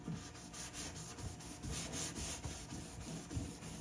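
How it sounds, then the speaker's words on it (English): A Scotch-Brite pad scuffs painted fridge panels ahead of custom paint, giving a quiet, rhythmic rubbing and scratching of repeated strokes with no talking. "So for scuffing, I got the Scotch-Brite pad here."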